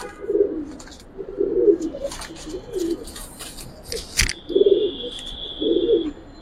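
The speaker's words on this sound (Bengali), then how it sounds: "হ্যাঁ মাশাআল্লাহ অনেক ভালো কবুতর," Giribaz and coloured fancy pigeons cooing in a cage, close by: about five soft, throaty coos in an uneven rhythm with pauses between them. Light handling noises and a brief clatter sound in the middle.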